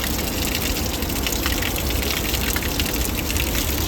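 Natural spring water pours steadily into a bottle near the Aharbal waterfalls in Kashmir, a loud continuous gushing rush with no pauses and no voices.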